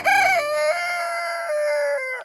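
A farm rooster crows one long, loud cock-a-doodle-doo close by, its strained call rising at the start and then holding and falling away over about two seconds.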